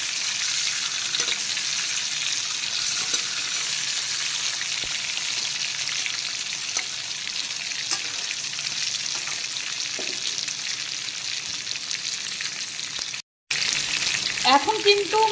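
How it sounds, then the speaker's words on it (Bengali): Chicken pieces fry lightly in oil for a spicy kosha, a close continuous sizzle with scattered crackles and spatters, a brief break near the end, then the frying resumes with sharper pops. "মাংসগুলোকে আমি উল্টো করে দিচ্ছি। এখন উল্টো দিকটাকেও"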